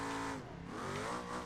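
A video game car engine roars steadily on a dirt track, revving and shifting pitch with a hint of tire noise, loud and alone throughout.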